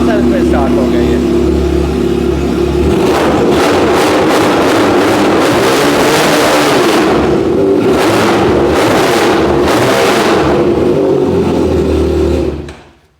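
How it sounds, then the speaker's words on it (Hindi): A carbureted motorcycle built as a BMW S1000 replica fires up on the self-starter and revs hard in loud, aggressive bursts, very close and overpowering, then cuts off abruptly at the end. "कार्बोरेटर बेस्ड है लेकिन देखते हैं कितनी जल्दी स्टार्ट होता है। ये टच हाफ सेल्फ पे स्टार्ट हो गया ये।"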